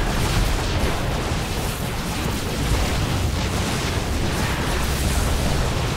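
A sustained, dense roar of explosive rumble fills the whole stretch, loud and continuous like a blast in a game battle, with no speech, as a Tal'Darim cannon is destroyed in StarCraft II: Legacy of the Void.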